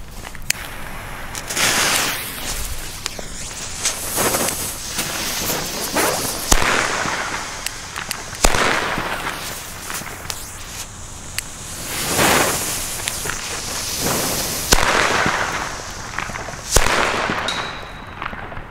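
Explode XP3 firecrackers go off on a street at New Year's Eve. Loud, sharp bangs repeat irregularly for nearly twenty seconds over a constant crackling, hissing fizz, and no voices are heard.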